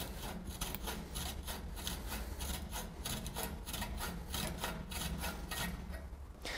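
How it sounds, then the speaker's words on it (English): A reamer turns inside the end of a steel conduit to deburr it, making a steady, close scraping and rasping with even strokes. The sound is quiet and continuous, with no talk. "deburr the inside of the conduit just by placing the reamer into the conduit like so"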